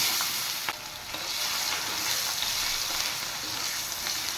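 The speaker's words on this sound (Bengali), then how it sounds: "এবার আমি তেলে দিয়ে দেব গোটা জিরে" Whole cumin and chopped onion frying in hot oil, a dense, steady sizzle and crackle close up, with a few faint pops throughout.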